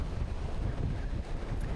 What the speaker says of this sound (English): It sounds very windy where you are.